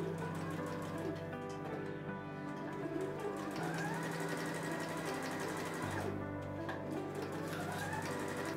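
Sewing machine stitching an apron seam, running steadily and close with a rapid even rhythm and slight shifts in pitch, without talk.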